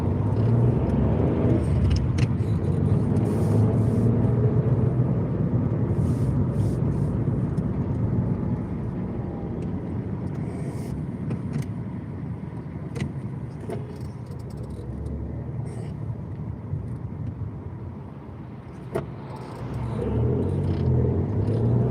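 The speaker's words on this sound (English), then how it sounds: "I am driving in the city Rotterdam" A car drives through city streets in Rotterdam, Netherlands, with a steady engine drone and tire rumble heard from inside the cabin. Faint clicks and small rattles come and go, and the hum dips briefly before it rises again.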